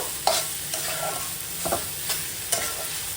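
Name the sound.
stirring cabbage curry with fish head in a pan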